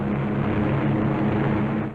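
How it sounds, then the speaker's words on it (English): WWII fighter and bomber planes fly away from Marcus Island, their engines making a loud, steady propeller drone that holds for the whole stretch and fades slightly at the end. "As the fighters and bombers swing victoriously away from Marcus Island"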